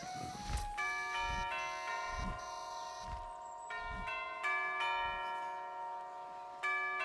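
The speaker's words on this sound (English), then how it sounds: "Listen, I can hear the bells." Festive Christmas bells ring out in repeated bright strikes, each leaving long, sustained, ringing overtones that overlap at a moderate, steady pace, with no voices present.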